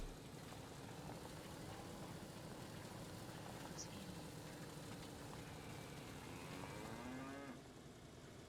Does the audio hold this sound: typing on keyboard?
no